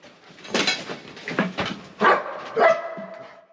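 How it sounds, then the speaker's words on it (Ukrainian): A German shepherd search-and-rescue dog barks and yelps several times in short, sharp bursts, close by, with a whiny edge to some calls, while training in the ruins of a destroyed school in Chernihiv. "Німецька вівчарка Зара шукає у зруйнованій будівлі 21-ї школи в Чернігові людей"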